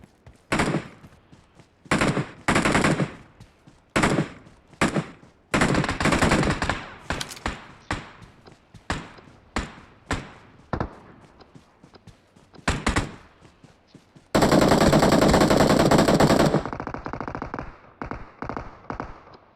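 Gunfire in PUBG Mobile comes in repeated short automatic bursts and single shots separated by pauses, ending with one longer sustained burst and a few faint shots.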